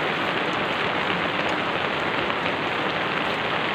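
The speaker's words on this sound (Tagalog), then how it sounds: "Pasok yung ulan." Steady rain falls and drums on a covering over an outdoor food stall, a dense, even hiss that is loud and close throughout, with no voices.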